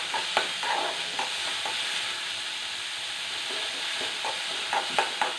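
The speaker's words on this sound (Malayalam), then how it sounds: "ഒരു ശകല എണ്ണ ഒഴിച്ചിട്ടുള്ളൂ, ഒന്ന് വഴന്ന് കിട്ടാനായിട്ട് മാത്രം." Ingredients for bun dosa sauté in a pan with just a little oil, a steady soft sizzle under repeated scraping stirs of a spoon, close and continuous without speech.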